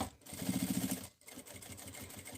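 Electric sewing machine stitching slowly around the curves of a fabric wallet, a steady close whirring with short rhythmic bursts of needle strokes and a brief pause midway.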